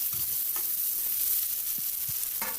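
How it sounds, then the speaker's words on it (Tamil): Onions sizzle as they are sautéed in a pan for a karunai kizhangu kuzhambu, making a constant close hiss with a few faint stirring knocks and no speech. "வெங்காயத்தை சேர்த்துட்டு நல்லா வதக்கி விடணும்."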